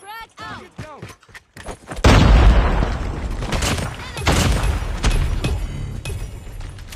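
Frag grenade blast in a multiplayer video game hardpoint match, a loud booming explosion with a rumbling tail and scattered gunfire following, after a brief spoken callout at the start.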